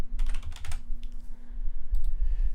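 Computer keyboard keys being typed in a short burst of quick clicks, then a pause and a couple more taps, close and moderately loud over a low steady hum.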